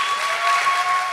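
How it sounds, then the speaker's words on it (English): A ceremony audience at a year-end graduation event claps in a steady, dense wash of applause, loud and continuous throughout with no break. "So let's give a big round of applause to Pablo Reguerin."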